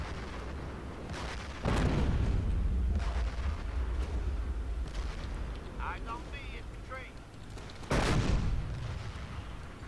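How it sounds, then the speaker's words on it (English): Heavy artillery fire in Company of Heroes European Theater battle, two loud booming blasts several seconds apart over a constant rumble of battlefield noise, with a voice speaking in between. "Is that your artillery?"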